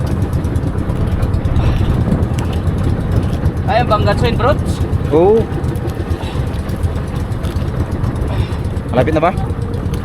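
A boat engine runs with a continuous low droning rumble throughout, while people talk nearby over it in bursts of speech.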